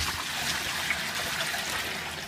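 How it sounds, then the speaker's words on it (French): Hot tap water pours into the hull of a plastic rotomolded kayak, a steady close splashing trickle heard alone throughout the short stretch. "on va verser l'eau chaude du robinet à l'intérieur de l'embarcation"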